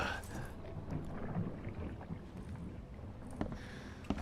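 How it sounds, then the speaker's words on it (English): Low, rolling ocean ambience outside in The Sinking City, a steady wash of surf and wind with a faint rumble and occasional soft splashes, continuous and fairly distant, with no voices. "I guess that could just be the sound of the ocean outside."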